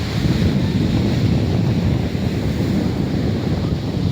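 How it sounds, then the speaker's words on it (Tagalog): Steady roar of ocean surf on a beach with continuous wind buffeting the microphone, loud and unbroken throughout, no voices. "tunog ng dagat."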